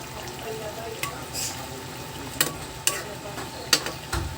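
Sweet potato leaves and sardines bubble and simmer softly in a pan, a low steady hiss broken by a few sharp clinks of a utensil against the pan.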